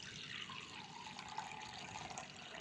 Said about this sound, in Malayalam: കുറച്ച് കഞ്ഞിവെള്ളം ഒഴിക്കുക